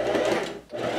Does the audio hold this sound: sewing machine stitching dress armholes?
yes